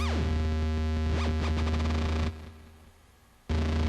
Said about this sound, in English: The sine wave.